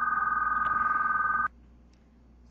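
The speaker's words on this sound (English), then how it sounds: "sorry, my phone rang" A phone rings with a steady electronic tone that stops abruptly halfway through, leaving near silence with faint background noise.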